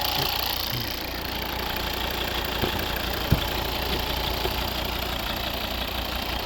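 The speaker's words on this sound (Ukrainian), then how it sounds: "Ось робота двигуна." A 2011 Volvo V70 2.0 D3 diesel engine with automatic gearbox idles in a steady, even drone with a faint knocking texture, running alone without any talking.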